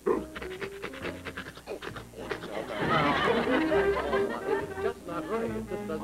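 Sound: voice imitating a big St. Bernard dog panting

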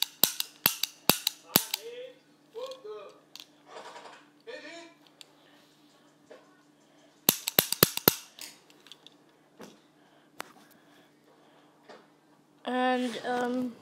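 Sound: BB gun shot fired without a BB

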